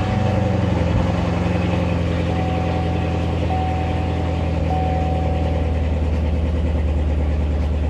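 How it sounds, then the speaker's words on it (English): Chevrolet Corvette C7 Z06 V8 with an X-pipe and no other exhaust changes, idling after a cold start: a loud, steady low rumble with a high fast-idle whine, continuous and close with no talk. "The car sounds like fucking amazing at cold start."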